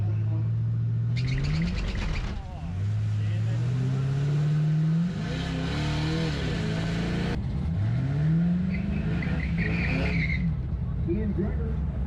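A race truck at Rocky Mountain Race Week accelerates down the track, its engine note climbing through gears in repeated rising sweeps, loud and close, with other engines and crowd noise around it.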